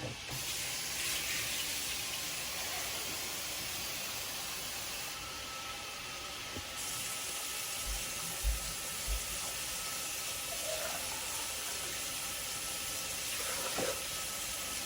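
Cups of water poured into a cooking pot of taco meat, a steady hissing splash that runs continuously with a few small clunks, close and alone without talk.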